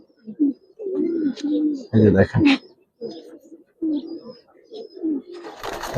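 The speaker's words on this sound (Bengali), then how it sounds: "অনেক সুন্দর কবুতর।" Giribaz and coloring breed pigeons coo in soft, low, repeated bursts close by, with a person speaking briefly between the calls.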